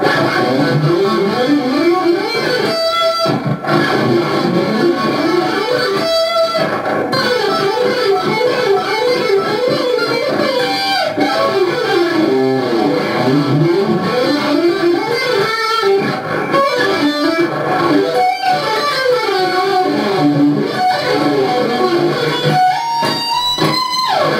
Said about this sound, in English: this is just a phrase I'm going to roll across the neck using hybrid picking